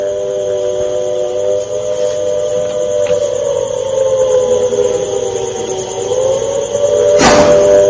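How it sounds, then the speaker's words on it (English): Air raid sirens wail in Firozpur, Punjab, a sustained steady tone with slight pitch drift heard at a distance over background noise, with a brief sharp burst of noise near the end. "sirens are ringing in Punjab's Firozpur as well"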